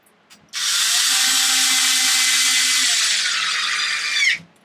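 A power screwdriver drives screws into the plastic rear differential cover of an XMAXX RC truck, letting out one sustained high whine that runs for about four seconds, then winds down with a brief ratcheting catch.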